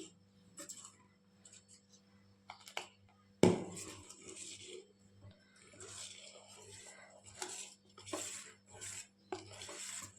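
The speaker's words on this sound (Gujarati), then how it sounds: "હવે આપણે આદું ઉમેરશું અને એને પણ સરસ રીતે મિક્સ કરી દઈશું" Ginger is stirred into a curry in a pot, with a sharp spoon clank against the metal followed by soft scraping and clinking strokes, quiet and close, over a low steady hum.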